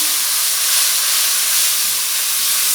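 Tomato paste made from one medium tomato hits hot oil in a pan while cooking fish curry, giving a steady, loud broadband sizzle and hiss that holds evenly throughout with no talking.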